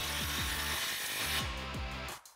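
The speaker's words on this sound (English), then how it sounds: "switch over to your 15 socket and get this clamp snug" A 15 mm socket wrench snugs a clamp on a Flowmaster FlowFX dual exhaust being fitted to a 2009-2021 Toyota Tundra 5.7L, giving a steady run of close, repeated ratcheting clicks that fades out at the end.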